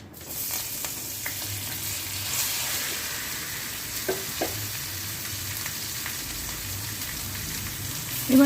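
Marinated chicken frying in hot oil for momo filling, a steady soft sizzle with occasional crackles and light stirring clicks, fairly close and without talk.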